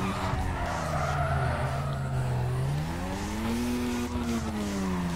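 Rear tires skid and squeal in a long, loud drifting wail that bends upward and holds, with a car engine droning beneath throughout, in the Need for Speed Carbon racing game.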